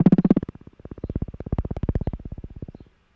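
Second layer of the Dune shield sound effect, made with granular synthesis: a dense, steady train of rapid buzzing pulses, loud at first and then slightly softer, running for about three seconds with no talk.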